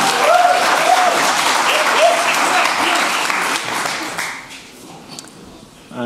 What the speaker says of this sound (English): So a warm applause again for Richard.